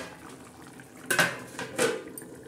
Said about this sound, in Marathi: तर आता चला मैत्रिणी, आपण परत झाकण ठेवूया.